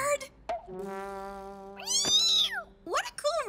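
A cartoon cat meows in a long, drawn-out, wavering cry, followed by shorter rising meows, loud and close.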